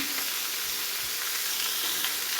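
Pumpkin curry with chili, turmeric and salt frying and being stirred in a pan, a loud, dense, continuous sizzle with faint stirring movement underneath, close up and with no talking.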